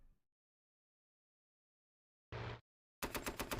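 Fighter planes strafe with machine guns in the wartime strategy game Panzer Tactics HD: two short, loud bursts of rapid gunfire, the second longer and more rattling, after a near-silent gap.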